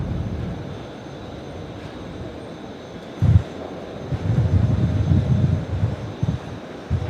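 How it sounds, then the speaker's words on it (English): A Boeing 787 Dreamliner climbs away after departure from Brisbane Airport, its jet engine roar a steady low rumble that swells louder in the second half, with a brief bump near the middle. "I'm just going to catch the Dreamliner, which is already up."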